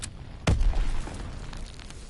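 A grenade detonates in the World War II shooter Call of Duty WWII, a single sharp, heavy boom about midway through that rolls off into a rumbling tail over steady background game noise.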